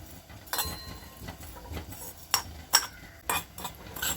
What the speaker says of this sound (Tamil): இது கொஞ்சம் சிவப்பாக வறுத்து எடுத்துக்குவோம்.